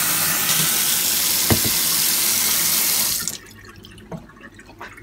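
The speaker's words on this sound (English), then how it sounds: "I'm going to fill out a cup of hot water." Tap running loud and steady as a cup fills with hot water, with a brief clink partway through, then the flow stops abruptly leaving faint drips and small handling sounds.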